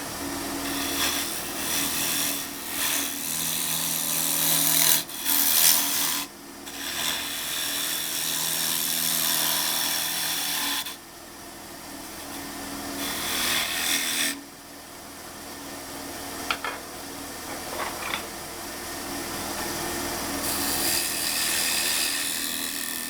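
A wooden lidded box tenon is turned on a lathe, giving a steady whirring hum with scraping tool contact that rises and falls in bursts and briefly drops away between passes.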